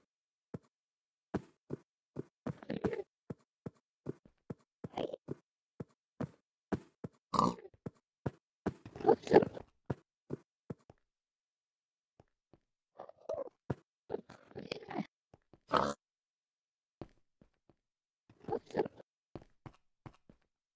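A pig in a video game grunts and oinks in scattered short bursts among regular clicking, thudding steps, faint and spaced out over a quiet background.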